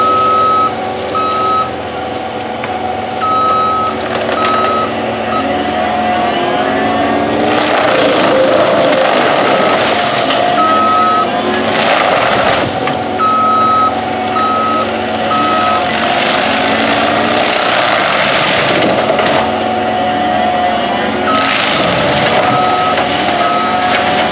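A forestry mulcher clears brush and trees along a fence line: a loud, continuous engine roar with bursts of grinding and crushing, alongside a repeating reversing beep from nearby heavy equipment.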